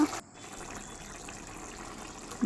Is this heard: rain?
no